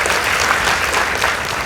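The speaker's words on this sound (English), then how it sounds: "Let's give them a round of applause." Applause from an audience at a school debate between Nambale Boys High School and Bishop Sulumeti Girls High School, dense steady clapping held at even volume throughout a short burst.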